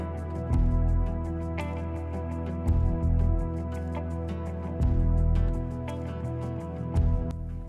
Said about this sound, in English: Lastly, add water and fold it in using a spatula.